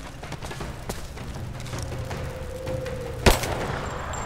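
Gunfire in the video game Rise of the Tomb Raider: soft scattered thuds lead into a single sharp, loud shot near the end, followed by a short ringing decay over quiet background game ambience.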